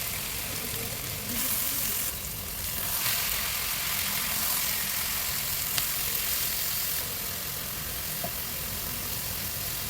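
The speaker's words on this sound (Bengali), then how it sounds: "লবণ দিয়ে মশলাটা একটু ভালোভাবে কষায় নিতে হবে" Spice masala with salt frying in a pan while small fish are being cooked, a steady broadband sizzle running throughout at a constant level, with faint stirring scrapes and no voices.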